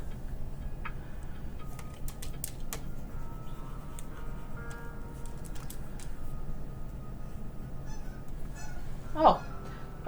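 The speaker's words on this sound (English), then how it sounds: "there's like a pair of geese that just flew across my window eye level." A pair of geese flying past a window at eye level, giving a single brief honk late on over a steady, low indoor hum with scattered faint clicks.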